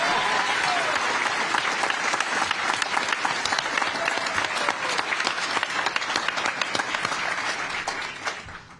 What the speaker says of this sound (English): You can go ahead and applaud.